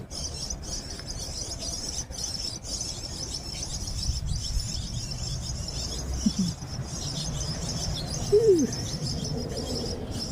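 Birds call at an outdoor feeding spot where crows and their young gather, a few short chirps and a brief louder call standing out over steady background noise.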